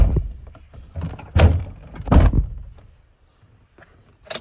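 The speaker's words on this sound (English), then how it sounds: "So I'm gonna close this door." A car door shuts with a solid thunk, preceded by a lighter knock and some handling noise, then quiet.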